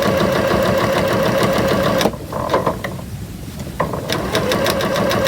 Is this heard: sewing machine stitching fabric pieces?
yes